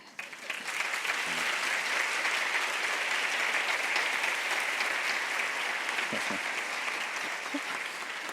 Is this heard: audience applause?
yes